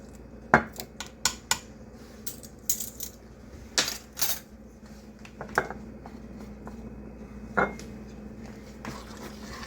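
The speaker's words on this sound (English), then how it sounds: "I'm stirring it now" Homemade tomato spaghetti sauce is stirred in a pot, a spoon knocking and clinking against the metal in a run of sharp, irregular taps, close and fairly quiet over a low steady hum.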